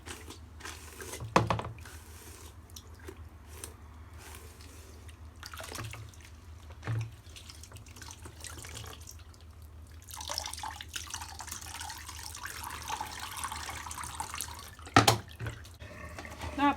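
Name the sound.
hot tap water running while rinsing a wig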